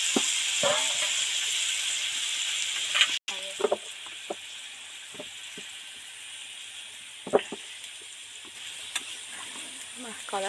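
Hot water pours into mutton curry frying in a pan, a steady sizzling hiss with bubbling patter and occasional clinks of a spoon, close and continuous throughout, with brief murmurs of a voice in the background.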